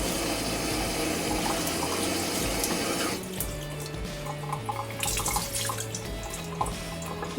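Water runs and splashes as squid is washed on a boat during overnight jigging. A steady rush is heard at first, then it turns into uneven drips and trickles with light clatter, close by and without talk.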